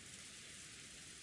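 Steady rain in the visual novel Umineko, a dense, even hiss of falling water that holds at a constant level throughout. Fairly soft, with no voices or other sounds over it.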